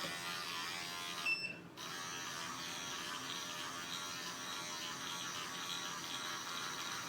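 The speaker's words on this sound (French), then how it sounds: "la brosse va vraiment aller dans toutes les ridules pour bien nettoyer votre peau" Electric facial cleansing brush running steadily against skin, a continuous close buzzing hum that holds level for the whole stretch, with a brief faint interruption near the start.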